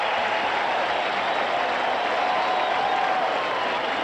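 A big crowd at the Mets' 1986 home opener against the St. Louis Cardinals roars steadily in the ballpark, a dense, sustained wash of cheering with no pauses.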